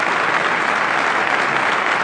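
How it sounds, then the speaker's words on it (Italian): An audience applauds an Italian film director at an interview event, a dense, steady wash of many hands clapping at close range with no break and no talking over it. "Ma un applauso ci sta, ragazzi."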